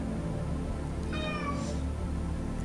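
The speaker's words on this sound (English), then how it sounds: "Cat outside, let's see if we can tempt him inside." A cat meows in the video game Lone Survivor, a single drawn-out meow with a rising-falling pitch heard clearly over a low ambient game hum, with no talking.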